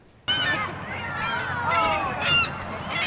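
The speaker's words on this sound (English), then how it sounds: "These are the seagulls that were attracted to the leftover eggs on Old Main Hill." Seagulls drawn to cracked leftover Easter eggs on a college campus hill, several loud overlapping squawking calls close by, starting abruptly and continuing throughout over a background murmur.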